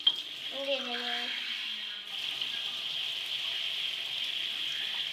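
Steady hiss of tap water running into a sink, continuous and fairly close, with a brief voice near the start and a short melodic tone early on.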